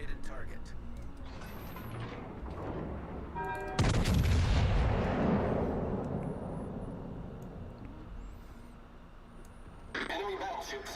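A World of Warships battleship fires a booming artillery salvo, a single loud blast partway through that rumbles and slowly fades, with another boom near the end; someone talks throughout.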